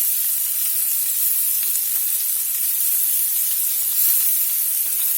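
Cajun steak bites fry in a skillet, giving a steady, loud, hissing sizzle that runs unbroken throughout with no voices.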